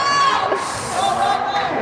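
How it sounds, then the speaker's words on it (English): Crowd at a youth ice hockey game cheers and shouts for the goalie in a loud, continuous wash of voices, with a commentator talking over it. "They're cheering for the goalie."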